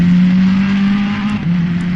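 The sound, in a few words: Ferrari GT3 race car engine, Assetto Corsa Competizione video game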